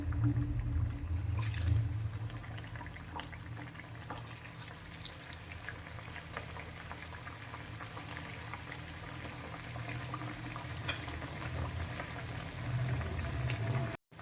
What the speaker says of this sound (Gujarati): આપણે જે આ રીતે ટીકડી ભજીયા તૈયાર કર્યા છે તે તેલની અંદર લઈ લઈશું અને આને એકદમ સરસ એવા ક્રિસ્પી થાય તે રીતે તળી લઈશું